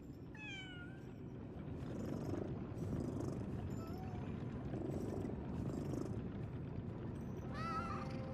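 A cat purrs steadily in the Lies of P video game, a low continuous rumble with a few short meows layered on top, all heard up close over ambient game sound.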